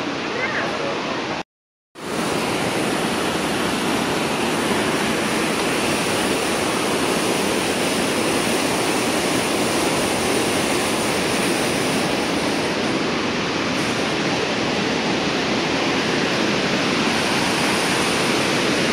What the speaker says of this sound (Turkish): Gördüğünüz gibi her yerden su akıyor.